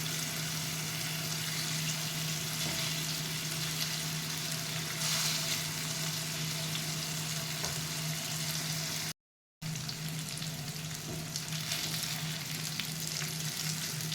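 Fish frying in oil in a pan, a steady, even sizzle with a low hum beneath it that runs on without talk, broken only by a brief dropout.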